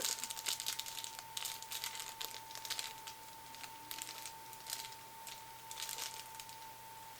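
A small paper envelope from a Florasis makeup kit is handled and opened, giving faint close crinkles and rustles in scattered bursts over a steady low hum, with no talk.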